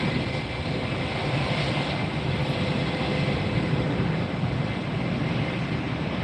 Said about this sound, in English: Bombardier Challenger 350. This is a NetJets headed to Baton Rouge, Louisiana.